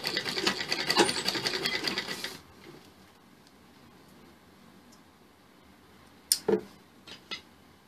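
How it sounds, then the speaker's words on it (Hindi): A sewing machine stitches blouse piping strips together in a fast, steady whirring run for about two seconds, then stops, leaving near silence broken by a few sharp clicks. "अब इन पाइपिनों को एक दूसरे के साथ सिल दो इस तरीके से।"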